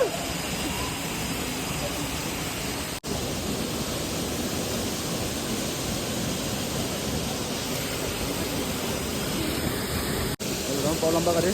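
Near a Gangtok waterfall, the water pours with a continuous, loud rushing hiss for the full length, heard from close by, with faint voices mixed into the roar.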